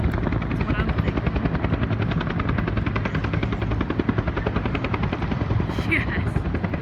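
A military jet performs a minimum interval takeoff at an air show, a loud, steady, pulsing engine roar that fills the whole stretch, with crowd voices faintly audible beneath it.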